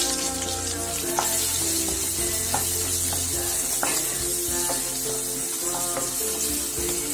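Small chopped shallots sauté in hot oil with mustard seeds, cumin and a pinch of asafoetida, giving a steady, close sizzle with intermittent spoon scrapes and taps against the pan throughout.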